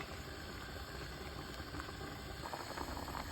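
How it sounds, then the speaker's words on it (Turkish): Spaghetti boiling in a pot of water, a steady close bubbling hiss that runs evenly throughout with slightly livelier popping toward the end. "Gördüğünüz gibi haşlanıyor"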